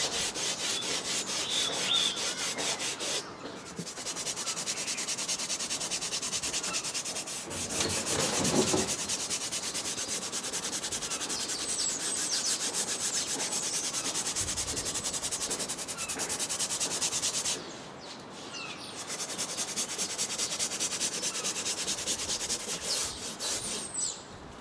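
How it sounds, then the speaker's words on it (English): A small stiff-bristled detailing brush scrubs cleaner into the mouldy fabric upholstery of an old Mitsubishi car seat, giving a steady close scratchy rubbing that continues for most of the stretch, with brief pauses and no talking. "I used a small toothbrush-like stiff bristled detailing brush to agitate the cleaner"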